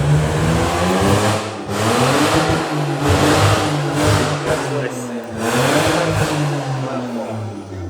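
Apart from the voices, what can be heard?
Mazda RX7 FC engine starting and revving after 10 years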